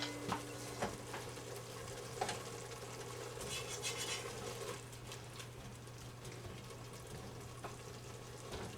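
Rotel cheese dip made with cubed cheese starts to bubble and simmer in a pot, giving soft, faint bubbling and gentle sizzling with occasional stirring clicks and a steady low background hum.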